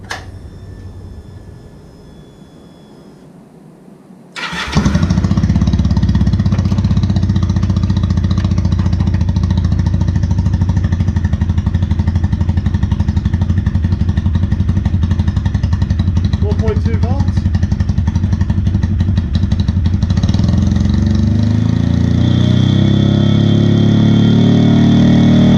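Laro motorcycle engine fired up for a quick test after a stator replacement, side cases back on, catching abruptly after a quiet start and then idling steadily and loudly up close for the rest of the stretch.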